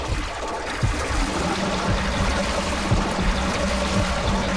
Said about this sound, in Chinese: 好像我家里冲马桶水的声音啊